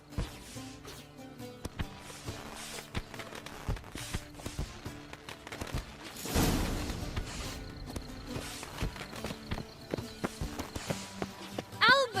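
Horse hooves clip-clopping in The Witcher 3, a steady walking beat of taps under game music and a short burst of louder ambient noise midway.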